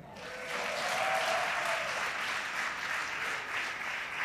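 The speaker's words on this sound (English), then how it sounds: "Everybody clap with Micah." A church congregation breaks into dense clapping that swells in after a brief moment and holds steady, a crowd of hands sounding together without talk.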